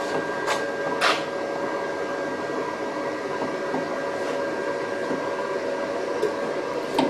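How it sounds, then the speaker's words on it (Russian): A steady whirring cooling-fan hum from a Hot Strike Galich paintless dent repair device runs throughout, fairly loud and constant, with a few faint clicks and taps over it. "звук от самого прибора. Ну да, вентилятор, конечно, шумновато работает"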